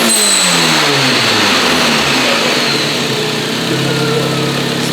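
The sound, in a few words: tuned Volvo engine revving, manifold crackling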